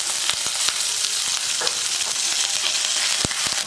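Mustard seeds, cumin, pepper, chopped green chillies, ginger and curry leaves sizzle steadily in hot oil for a rava dosa tempering, with sharp crackling pops and spoon scrapes over a continuous frying hiss, no talking.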